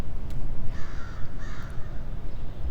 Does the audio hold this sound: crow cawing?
yes